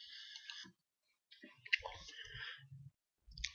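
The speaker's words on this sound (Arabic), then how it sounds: "انا هعمل رايت كليك على المانجمنت" A computer mouse gives a few quick, close clicks with short silences between them, while someone speaks quietly between the clicks.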